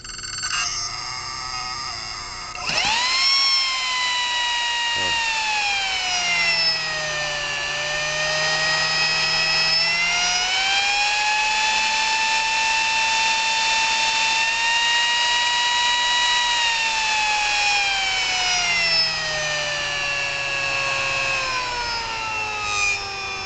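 A 70 mm electric ducted fan on an unmounted motor driven by a servo exerciser, spinning up abruptly and then holding a loud, steady whine whose pitch drifts up and down at low RPM, alone without talk.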